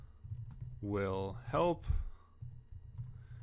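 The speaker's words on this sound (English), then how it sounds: "I'm just typing in some random stuff." Faint clicking of computer keyboard keys sits under a person talking close by, and the typing comes through most clearly in the quieter moments.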